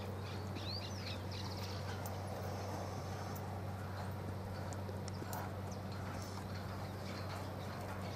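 Faint clip-clop of hooves from a chestnut crossbred country horse about three and a half years old being ridden, under a steady low hum with bird calls in the background.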